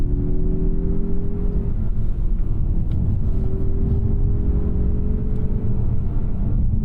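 Turbocharged 2024 Mazda CX-30 accelerating while held in second gear: a loud, steady low engine drone with rising tonal whine, heard from inside the cabin without talk.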